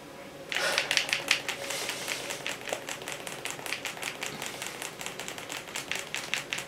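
Game controller buttons clatter rapidly and steadily in close, crisp clicks, an almost typewriter-like patter that keeps going throughout.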